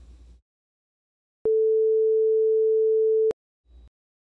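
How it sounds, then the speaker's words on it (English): A pure, steady electronic sine tone from a Web Audio API oscillator sounds alone for about two seconds, starting and stopping abruptly, with brief faint noise before and after. "the default oscillator that plays out of the box is a sine wave"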